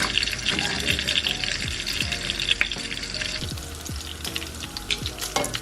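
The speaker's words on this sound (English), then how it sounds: "I was also frying some bacon on the side for myself." Bacon frying in a pan on a stovetop burner, a close, steady crackling sizzle with scattered sharp pops and spits running throughout.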